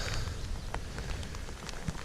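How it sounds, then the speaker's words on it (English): Light rain falls outdoors beside a silt pond during a fishing trip, a steady soft patter with scattered drops and low rumbling background noise, no talking. "I'm so glad the rain is chilling out though."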